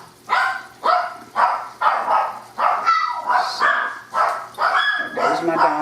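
Several dogs bark in a steady, repeated series of sharp, loud woofs, roughly one every half second, close by in a home kitchen where chicken piccata with white wine sauce is cooking.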